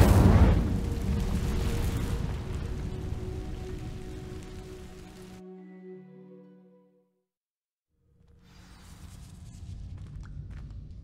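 An Incendio fire spell cast in the Hogwarts Legacy video game bursts out as a loud, roaring whoosh of flame that trails off over several seconds into silence, before a softer crackling rush returns.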